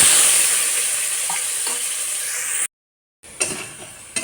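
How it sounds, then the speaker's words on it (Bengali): Potatoes frying in hot oil in a pan, used just before for frying fish: a steady, loud hiss and sizzle with faint clinks. It cuts out briefly near the end, then the sizzle returns with a couple of louder crackles. "এই তেলের মধ্যে আলু ভেজে নেব"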